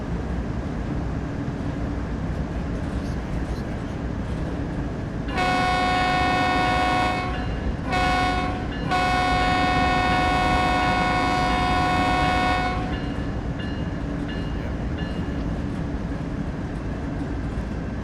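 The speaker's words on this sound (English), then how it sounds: "there's another train coming" A train in Train Sim World 5 on the San Bernardino route rumbles steadily as it arrives, sounding a long, loud multi-tone horn in two blasts split by a brief gap, then keeps rolling without the horn.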